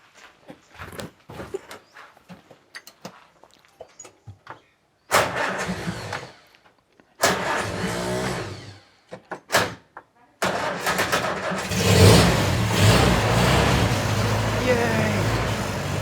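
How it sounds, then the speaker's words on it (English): A 1941 US Army Jeep in Phuket, Thailand cranks and then starts, after earlier clunks and short bursts, and settles into a loud, rough idle close by, with people talking at times. "Yeah, I'll get it started."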